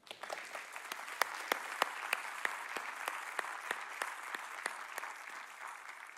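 An audience applauds to welcome preacher Dr. John Dickson to a church gathering, with steady clapping from many hands, moderately distant and gradually thinning toward the end.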